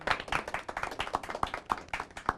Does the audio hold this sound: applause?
yes